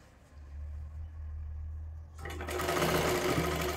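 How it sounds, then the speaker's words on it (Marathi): A sewing machine stitches down a folded strip along a katori blouse: a low motor hum first, then a louder, rapid run of stitching that continues to the end, without speech. "आणि पूर्ण बाजूला ही शिलाई मारून घ्यायची आहे"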